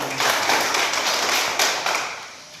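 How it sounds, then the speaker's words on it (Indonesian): Pupils in a classroom give a round of group clapping, many hands striking close by in a steady, slightly pulsing rhythm before fading toward the end. "Buah, tepuk tangan."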